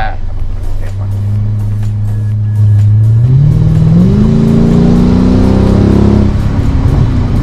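A 2008 Mercedes-AMG C63 V8 accelerates in normal mode, its deep engine note climbing steadily through the revs and growing louder, with people talking over it.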